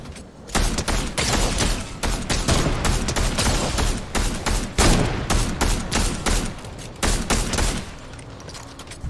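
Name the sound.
DMR rifle gunfire in a video game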